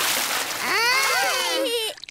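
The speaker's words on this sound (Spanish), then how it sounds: "Papá cerdito salpica a todos de agua." Cartoon water splash as a pig father in a Peppa Pig episode shakes himself dry and sprays everyone, a single sustained whooshing splash with sliding tonal sound effects, ending abruptly after about two seconds.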